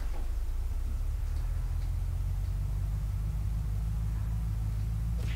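Car engine in the video game Unturned: a loud, steady low rumble, constant throughout with faint hiss above and no voices.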